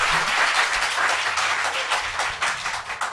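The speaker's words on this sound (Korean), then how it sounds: "박수!" Audience applause fills the short stretch, a dense, continuous patter of many clapping hands with no speech over it.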